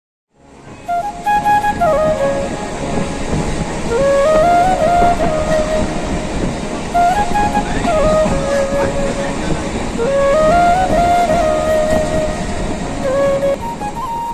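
The Shalimar Puri Dhauli Express running along the line, a loud steady rumble of wheels and carriages with repeated rising and falling tonal squeals and horn-like tones riding over the clatter.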